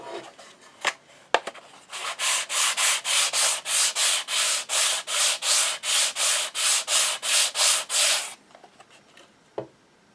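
Paste wax is rubbed onto the case of a 1972 Aries AR-730K digital kit clock with a cloth, giving about eighteen even back-and-forth swishing strokes in a steady rhythm, close and fairly loud, bracketed by a few light knocks.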